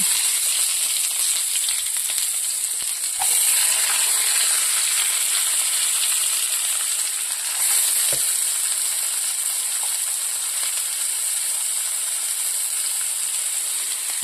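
Chopped onions sizzling in hot oil after mustard seeds have popped, a steady bright hiss filling the pan, with a couple of soft stirring knocks and brief swells of crackle as pieces settle.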